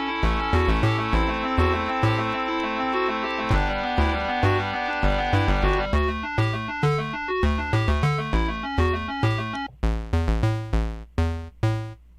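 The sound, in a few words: classic NES-style bass synth preset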